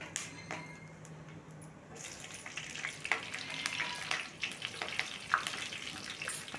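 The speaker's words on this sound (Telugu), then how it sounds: "ఆయిల్ హీట్ అయిన తర్వాత పట్టా లవంగం షాజీరా అన్నీ వేసుకోవాలి కొంచెం ఫ్రై అయిన తర్వాత పచ్చిమిర్చి వేసుకోవాలి" Whole spices such as cinnamon, cloves and shahjeera crackle softly in hot oil in a pan, with faint sizzling and a few sharp pops and clinks. It is quiet and close, with no speech.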